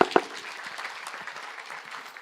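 An audience claps at a life skills training session, a brief patter of hands that stays fairly faint.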